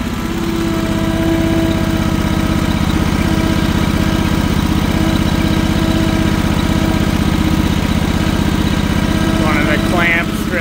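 A TMR mixer's engine idles steadily on a dairy farm, a loud, even diesel-like chug with a dense rhythmic pulse holding for the whole stretch.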